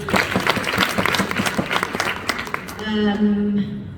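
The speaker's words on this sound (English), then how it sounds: "Let's give them a round of applause." Steady applause from a crowd at a managers convention fills the room, dense clapping throughout, then fades as a voice begins speaking near the end.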